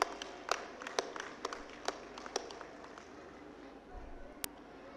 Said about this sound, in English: Let us give a big applause to all the staff and faculty.